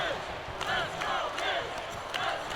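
An arena crowd in a WWE 2K wrestling game cheers and chants in steady rhythmic bursts, loud and dense, with a commentator's voice speaking over the roar.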